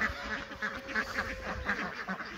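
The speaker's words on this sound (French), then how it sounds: "Ici il y a les canards de forêt bruns." A flock of brown wood ducks quacking continuously at close range, overlapping calls in a busy, steady chatter outdoors on a duck farm.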